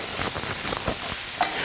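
Bananas fry in a pan while being stirred, short scraping strokes pushing through a close, steady sizzle.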